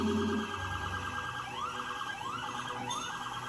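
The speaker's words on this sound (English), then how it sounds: "The cops are putting on some more loud sirens." NYPD police sirens wail, rising and falling steadily over a loud, continuous horn tone, close by and dominating, while clearing a path for two fire trucks through a New York City traffic jam.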